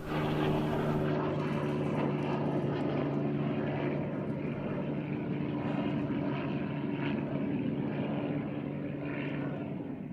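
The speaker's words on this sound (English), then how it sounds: "Here you see it teamed up with another Serbian-built plane, the J-2 Galeb, an advanced jet trainer" Serbian-built J-2 Galeb advanced jet trainer passing at an airshow at Batajnica, a steady broadband engine roar holding fairly even throughout, moderately distant and without talk.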